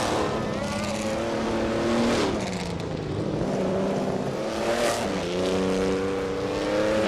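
Race cars, including a Ferrari 375 F1, scream past in a racing game, with engine notes rising and falling in pitch as they accelerate and shift, loud and continuous throughout.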